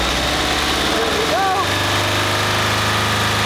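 A car engine runs steadily in cold weather, a loud, continuous close drone held at about 3,000 RPM, with a brief voice-like chirp over it partway through.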